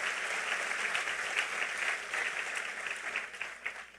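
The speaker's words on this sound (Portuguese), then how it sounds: "Aplauda ele forte" A church congregation claps together in sustained, dense applause, soft and somewhat distant, holding steady before tapering slightly at the end.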